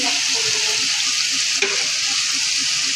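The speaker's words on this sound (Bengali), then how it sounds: "মশলাটাকে কষাচ্ছি" Spice masala for Bengali chicken kosha, with kasuri methi, being fried and stirred in a pan, a loud, constant close-up sizzle with soft scraping underneath and no voices.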